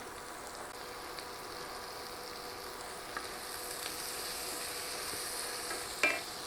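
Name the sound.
stirring minced garlic into browned sausage in a skillet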